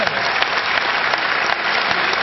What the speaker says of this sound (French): Ginette Renaud, on peut l'applaudir encore très très fort